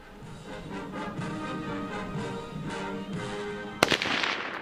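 A single loud, sharp report from a Mk I Lee Metford rifle fired from the prone position outdoors, breaking through steady background noise near the end, followed by a short, fading echo.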